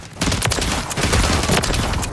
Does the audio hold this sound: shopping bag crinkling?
no